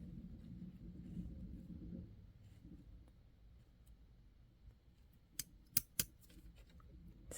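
Small scissors snip away very dry skin during at-home nail care: three sharp, crisp clicks land close together near the end, after a stretch of low rumbling background.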